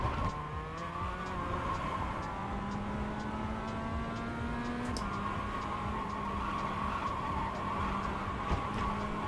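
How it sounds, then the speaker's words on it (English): Tyres skid in the iRacing sim racing game: a sustained, steady squeal sits over a constant engine drone for about nine seconds, loud and close, with no talking. "1970s car chase, the tyre skidding"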